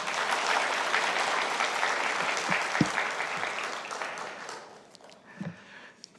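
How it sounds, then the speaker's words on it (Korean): A congregation at a Sunday afternoon praise service claps warmly, broad applause that holds steady for about four seconds, then tapers off into scattered claps and a few faint voices. "우리 박수로 한번 격려했으면 좋겠습니다."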